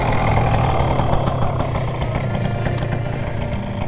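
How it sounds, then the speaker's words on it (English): A paramotor engine on a powered paraglider idles on light throttle at a training flight, a steady, close, loud drone with no break through the whole stretch. "I'm gonna start your motor."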